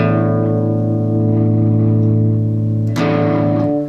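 A Sofadio overdrive pedal with its drive turned fully up gives a loud, sustained distorted guitar tone. A held chord buzzes with fizzy harmonics, then a fresh strum near the end briefly restarts the sound, with no talking.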